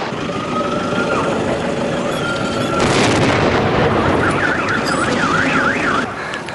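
A sudden loud blast from an illegal firecracker set off in a police bomb test erupts partway through, followed by a sustained roaring rumble, while a warbling car alarm wails afterward.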